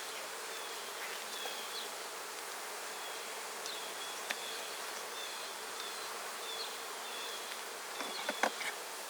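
Honey bees buzz from an opened hive in a continuous droning hum. Occasional individual bees pass close by, with no talking over the sound.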